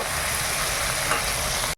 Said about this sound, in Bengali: এখন কচুটা রান্না করে নিচ্ছি